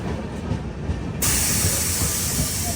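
Kerala Express pulling into platform 1 at Kollam Junction railway station, a steady rushing rumble with a sudden loud hiss of air or steam breaking in partway and continuing to the end.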